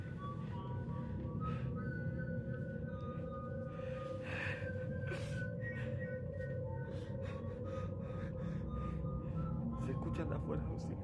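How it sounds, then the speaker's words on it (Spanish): Whistling carries from outside a house in a series of thin, repeated high tones over a constant dense background hiss, faint and distant. "Se escuchan de afuera los silbidos."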